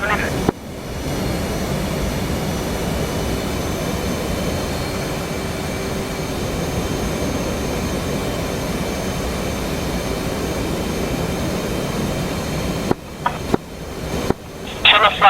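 Harrier jet engines approach in the combat flight simulator DCS World, a loud, steady roar that holds for most of the stretch before breaking off into short gaps near the end.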